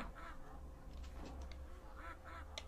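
Quacking from an evil duck enemy in the 1995 3DO shooter Killing Time comes in a few short honking bursts against a constant background hum of game ambience.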